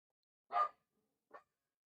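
A dog barks twice, first a loud sharp bark and then a shorter, softer one about a second later, in an otherwise quiet room.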